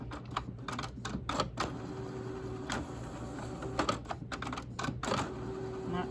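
A home printer feeding a paper napkin backed with cardstock, clacking and whirring in short mechanical bursts with rhythmic stepping and brief pauses, close and moderately quiet.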